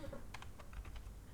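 A website address being typed on a computer keyboard: a short run of soft, close keystrokes in an uneven rhythm over a steady background hiss, with no voices.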